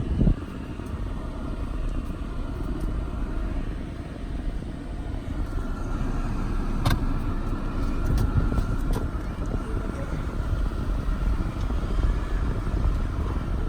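A 2013 Ford Fusion being backed up outdoors, its engine giving a steady low rumble with a broad rushing noise over it, plus a few brief clicks and knocks partway through; no talking.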